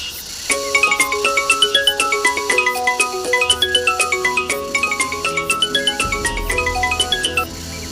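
A phone ringtone plays a bright, repeating melodic pattern of chiming tones, loud and close, continuing steadily for several seconds with a low hum entering near the end and no voices.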